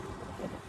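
A boat rides on the sea at Mumbai, a continuous low rumble mixed with rushing wind and water noise, steady throughout the short stretch with no voices.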